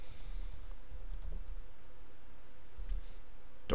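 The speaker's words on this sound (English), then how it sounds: "Now here we're gonna type in again textbox 1" Computer keyboard keys are tapped while typing code into a Visual Basic 2010 textbox, light scattered clicks over a low room hum, ending with a louder key press.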